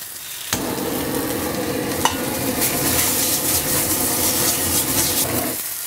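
Chicken breast sizzles loudly in a hot pan while being stirred and scraped, a steady crackling hiss with occasional clinks of a utensil, no talking.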